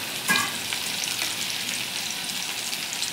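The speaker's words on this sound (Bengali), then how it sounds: "পনিরগুলোকে আমরা ভেজে নেব।" Paneer cubes fry in hot oil on low heat for matar paneer, a steady close sizzle with a brief louder crackle near the start and no talking.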